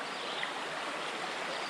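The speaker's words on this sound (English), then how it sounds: "we get to sit here in the shade next to this flowing creek" Steady broadband rush of a flowing creek along the Manistee River and North Country Trail loop near Brethren, Michigan, a shaded creekside spot the morning after a rainstorm, continuous and fairly close with no talk.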